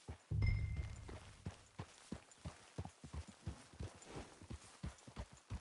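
A horse's hooves in Red Dead Redemption 2, walking in a steady clip-clop rhythm of soft repeated thuds under a quiet background, with no talking.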